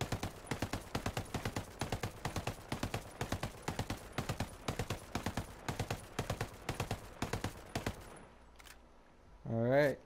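An MK17 assault rifle in Ghost Recon Breakpoint fires controlled shots, a long, regular stream of sharp reports in quick groups. Near the end the firing stops and a voice is heard briefly.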